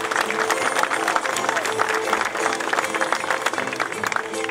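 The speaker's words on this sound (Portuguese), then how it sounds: "se as Fontinhas é tua amiga, eu quero ouvir as palmas" An audience at a Portuguese folk singing event applauds steadily in a dense, continuous wash of clapping, with voices mixed in throughout.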